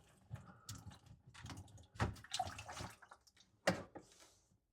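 Water draining from a sink drain pipe into a bucket, quiet irregular splashes, drips and gurgles in short bursts, close and fairly faint.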